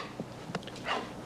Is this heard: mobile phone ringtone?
no